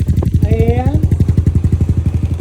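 A 200cc motorcycle engine with a version 3 exhaust pipe fires up and settles into a loud, close, even idle of rapid regular pulses, with a brief rising whine as it catches and a voice speaking over it.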